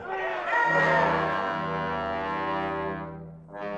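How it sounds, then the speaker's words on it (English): An agitated crowd roars and clamors in a radio drama version of The Day the Earth Stood Still. Massed voices swell into loud, sustained shouting, then cut off briefly near the end before rising again. "What's bothering the crowd, Lieutenant?"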